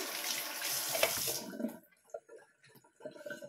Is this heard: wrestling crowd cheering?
no